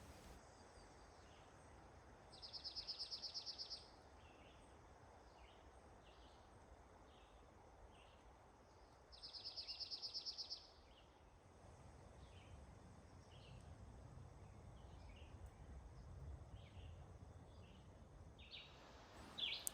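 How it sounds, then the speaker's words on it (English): A dark-eyed junco sings from its breeding territory, two short, even trills a few seconds apart, fairly distant over a quiet outdoor background with faint insect hum. "I got to observe this dark-eyed junco singing over its breeding territory"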